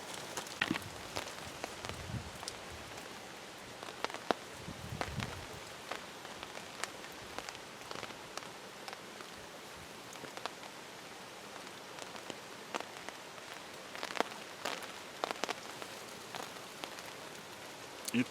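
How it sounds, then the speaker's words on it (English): Rain falling outside a camp shelter on a cold night, steady soft patter with many close scattered drops and light rustling, fairly quiet, no talking. "It's a rain."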